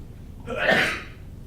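A single sharp sneeze bursts out at a press conference with short-film directors, loud and brief amid quiet room tone.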